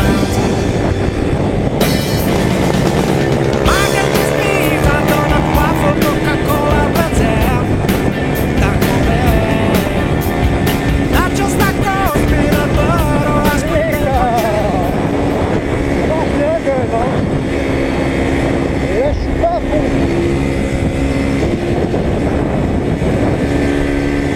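An Apollo RFZ enduro dirt bike engine runs at full throttle at around 70 to 90 km/h, a loud, steady, close roar whose pitch rises and falls through the run, with a voice speaking over it.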